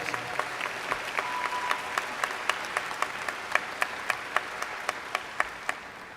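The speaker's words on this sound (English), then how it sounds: "Give him a big round of applause." At a college commencement ceremony, a crowd applauds steadily while a single nearby pair of hands claps out a sharp, regular beat above the distant, even ovation.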